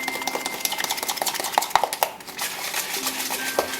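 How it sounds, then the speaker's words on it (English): A spoon stirs a homemade organic toothpaste mixture by hand, scraping and clinking against the bowl in quick, irregular strokes, fairly close and alone with no talk. "So I'm okay with just stirring it up with an actual spoon."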